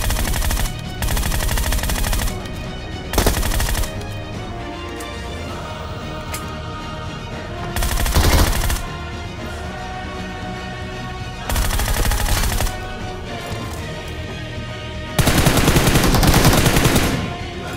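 Rapid automatic gunfire rattles in loud, repeated bursts in a BGMI squad fight played on an iPad Pro 2022, with quieter ambient game noise between the volleys.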